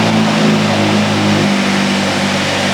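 A car engine hums and revs at a steady high pitch, loud and close, a continuous droning tone with slight swells.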